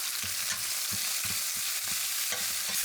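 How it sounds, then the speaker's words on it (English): Green onions, garlic and chili paste stir-frying in a hot pan for braised beef noodle soup, giving a loud constant sizzle with rhythmic thumps and scrapes of a spatula. "Then add in green onions and garlic and keep stirring."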